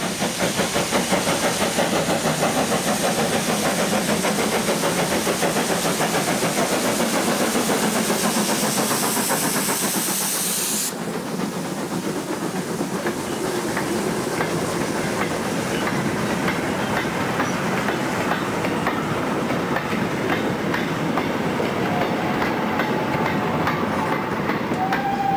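Two steam locomotives, a Robert Stephenson & Hawthorns Workhorse 7151 and Polish Carol, double-head a freight train banked by Hudswell Clarke number 70, heard as a loud, continuous rumble of working engines and rolling wagons with steady clickety-clack throughout.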